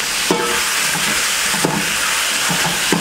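Minced mutton sizzles and hisses loudly in a hot pan for Ramzan nombu kanji, a steady close frying noise broken by a few light stirring scrapes.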